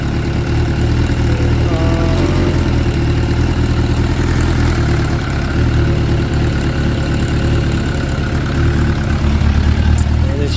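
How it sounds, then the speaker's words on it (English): A 2006 Suzuki GSX 600F Katana motorcycle idles after a carburetor fix, its warm engine giving a loud, steady, even rumble that holds unchanged throughout. "So now I've fired the bike back up again and let it run for a couple 5 minutes."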